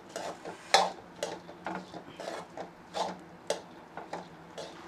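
Puffed rice stirred into egg podimas in a pan, giving a series of dry rustling, scraping strokes at an irregular rhythm, close and moderately loud, with no talking.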